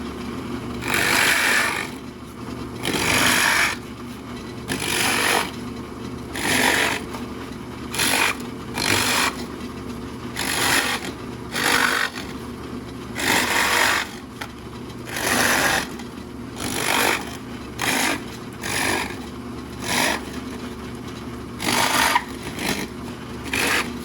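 A carving tool hollows out the wooden body of a Greater Scaup drake duck decoy in repeated bursts of rasping and scraping, each stroke a second or two long, close and fairly loud, with short pauses between.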